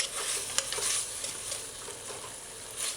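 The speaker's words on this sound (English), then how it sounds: "You need to stir this in properly." Sloppy joe burger sauce with baked beans is stirred in a hot pan, a steady close sizzle with soft scraping strokes of the spoon running throughout.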